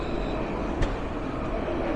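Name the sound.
Dublin Luas tram passing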